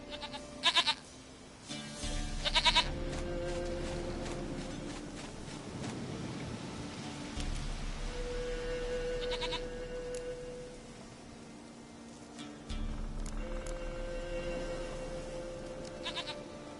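A goat in The Witcher 3: Wild Hunt bleats in several short, fairly loud calls spread across a quiet game scene with soft ambient wind, and no one speaks.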